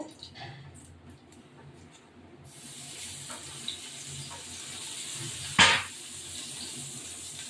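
Ginger-garlic paste fries in hot oil: a soft, steady sizzling hiss swells up partway through and continues close by, with one sharper spitting flare near the end.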